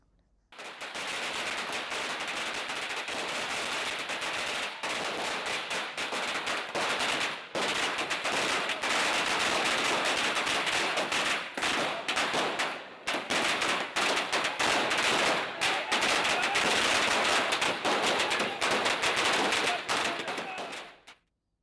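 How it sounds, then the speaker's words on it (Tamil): Long rapid crackle of firecrackers stacked on a man's head bursting in a dense chain, loud and continuous, briefly pausing midway before resuming until an abrupt stop. "அதிமுக தொண்டர் ஒருவர் தலையில் வெடியை அடுக்கி வைத்து வெடிக்கச் செய்தார்."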